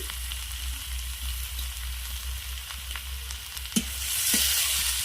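Chopped tomato goes into a pan of fried onions and sizzles in a steady hiss of frying, with a low hum underneath, a sharp clatter midway, and the sizzle swelling louder near the end.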